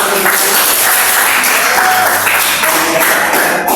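Loud, dense applause from a crowd at the end of a school teaching session, steady clapping that fills the whole moment without pause.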